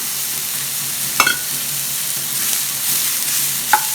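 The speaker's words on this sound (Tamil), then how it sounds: "போட்டு நல்லா வதக்கிடுவோம்." Finely chopped bitter gourd sautéing in a pan, with a constant close sizzle punctuated by two distinct clinks of a spatula against the pan and a brief stir in between.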